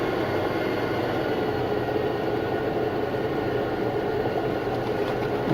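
A train passes in the video game Satisfactory as a loud, continuous rumbling roar with steady rail noise and no pauses.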